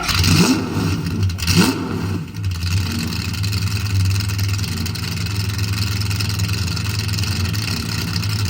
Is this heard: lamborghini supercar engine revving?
yes